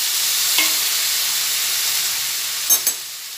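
Chopped eggplant sizzles and fries steadily in a hot pan, a constant hiss with two brief clatters of stirring near the end, no voices.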